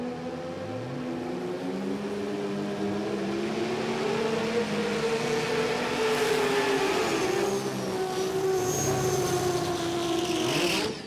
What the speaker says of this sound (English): So quiet, isn't it, Paul Mahayat's car?